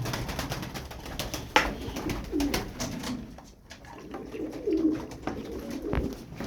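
Several pigeons coo in soft, low bursts nearby, with occasional clicks and shuffling in between.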